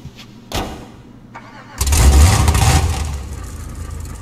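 The Vapid Ratel off-road car in GTA 5 cranks with a couple of short clicks and bursts, then the engine catches and roars up loudly before settling into a rough idle.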